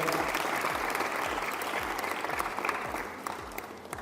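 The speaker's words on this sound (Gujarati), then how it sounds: "એકવાર જોરદાર એમના માટે તાળીઓ થઈ જાય." Loud, sustained applause from a large crowd of students, teachers and parents at a police cadet summer camp gathering, steady dense clapping throughout with no voices over it.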